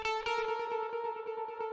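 An electric guitar played through Guitar Rig plugin effects rings out as a sustained, distorted note with a fast rhythmic pulsing echo, clear and alone in a short snippet.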